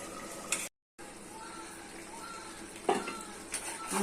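Potatoes, chicken and vegetables sauté in a pan with a soft, steady sizzle, punctuated by a few louder stirring scrapes and clinks, while background noise stays low throughout.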